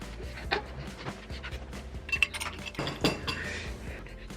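Spoons and forks clink against dishes in an irregular run of close, bright taps and scrapes during a late-night meal of spicy food and leftover ice cream, with faint background noise and no talk.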